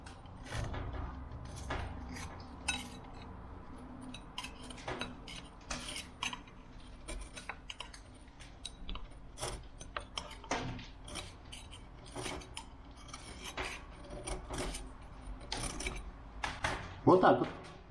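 A blade scrapes built-up chalk off a plaster cornice, producing repeated rasping strokes in irregular bursts. The scraping is close but fairly quiet, and each stroke is short and gritty.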